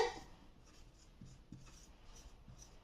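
Pen or chalk writing a symbol by hand during a lesson, a faint scratching with soft, evenly spaced strokes against a quiet background.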